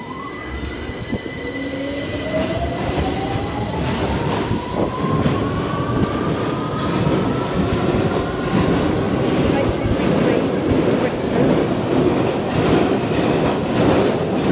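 A London Underground Victoria Line train pulls out of platform 4 at King's Cross St Pancras, its motor whine rising steadily in pitch over a loud, continuous rumble of wheels and carriages close by.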